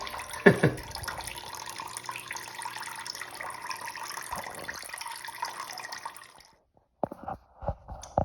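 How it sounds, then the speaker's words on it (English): Water sprays and hisses from a toilet mini fill valve, a close, continuous splashing rush that cuts off abruptly near the end, followed by a few brief clunks and drips. "And I'm spraying water all over the place."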